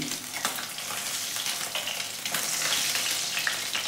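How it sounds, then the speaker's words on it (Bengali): Pieces of rohu fish fry in hot oil, giving a dense, continuous crackling sizzle that swells slightly toward the end, close and steady with a few faint clinks and no voices. "বাকি মাছগুলো আমি ভেজে নেব"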